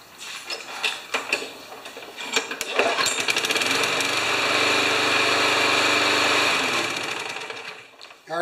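A Yard Machines lawn mower engine, already hot, cranks and catches, then runs steadily and loudly for several seconds before cutting off near the end.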